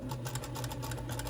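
Sewing machine stitching a daisy quilt along a sewing line, a steady close mechanical whir with rapid regular needle pulses, running alone without any voice.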